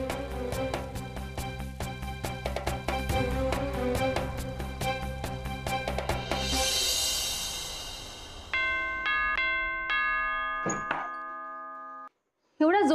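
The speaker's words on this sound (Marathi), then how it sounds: "एवढ्या जोरजोरात का बेल वाजवताय?" A doorbell is rung loudly and insistently at a home, with rapid repeated strikes followed by a few sustained chime tones that ring out and fade, ending in near silence.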